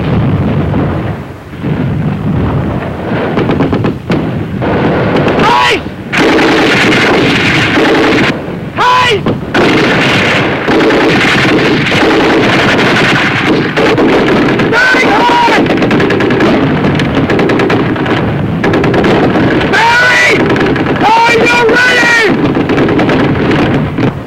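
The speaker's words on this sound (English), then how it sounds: "Behind us, our covering fire was shifted away from Building 1." Sustained WWII battle gunfire and artillery fire, with dense machine-gun bursts, rifle shots and heavy booms rolling continuously at loud volume, with voices faintly mixed in at times.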